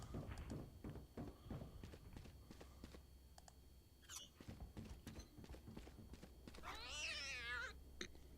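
A cat meows several times, a rising and wavering call standing out near the end over a busy background of footsteps, clicks and faint voices from a Valorant college esports broadcast.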